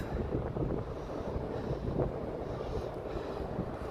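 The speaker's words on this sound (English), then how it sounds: "Oh, it's really windy down here, guys." Constant low roar of wind in Lowestoft, England, pushing against the microphone, with small gusting swells and no one speaking.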